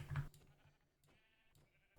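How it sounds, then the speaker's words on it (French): A sheep in the video game Minecraft lets out a short, nasal bleat at the start, followed by quieter game sounds in the background. "J'étais tranquillement en train de tuer des moutons"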